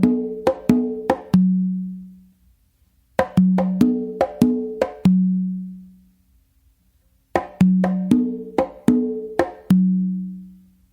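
Guaguanco rhythm played on a set of four congas, with three separate phrases of crisp open tones and sharp slaps that ring out between pauses, recorded close and alone.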